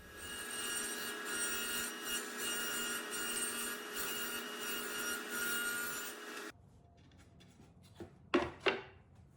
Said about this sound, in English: create a 1/4 inch rabbet on the inside of the 2 sides and bottom piece